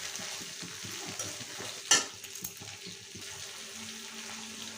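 Chopped coriander leaves and tomato fry in a pan for a fish-bone chorchori, a soft continuous sizzle with rhythmic stirring scrapes and one sharp clatter of the spoon midway.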